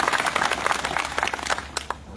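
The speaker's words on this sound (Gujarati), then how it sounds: "તમારા પોતાના માટે તાળીઓનો આવકાર થઈ જાય" Farmers in a rally audience at a tractor rally in Tankara clap together, a dense, steady patter of many hands that carries on without a break.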